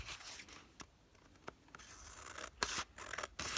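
Scissors trim the edge of a stitched fabric box, crisp close snips and rasping cuts in an irregular series, quiet and alone, growing busier toward the end.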